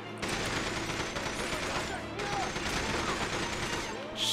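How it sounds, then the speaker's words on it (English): Dense gunfire in the From Russia With Love video game: continuous rapid shots and loud battle noise fill the whole stretch, with little pause between reports. "Shot him in the leg."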